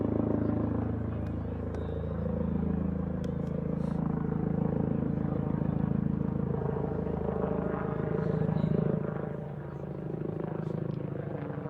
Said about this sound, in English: We see a helicopter now flying over the arena field